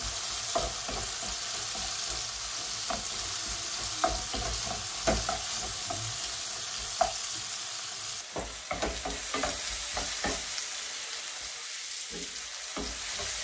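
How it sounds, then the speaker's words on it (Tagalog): Shallot onions sizzle steadily in a hot pan while a utensil stirs them, sending out scattered scraping clicks, close and continuous. "Lagay ang onion. Yung ginagamit kong onion is shallot onion siya."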